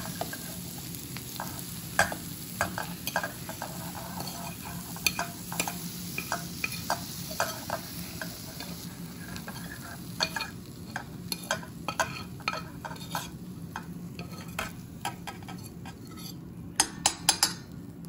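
Sautéed vegetables are stirred and scraped around a pan, with a steady sizzle and irregular clinks and scrapes of a utensil against the metal running throughout at close range, with no talking.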